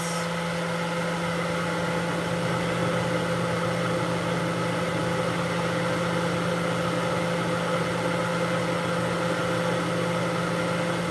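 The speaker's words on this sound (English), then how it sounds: "She will do well in that dryer box." A pet dryer box holding a long-haired cat gives a steady, constant whir of blowing air with an even motor hum and a low tonal drone that never changes throughout.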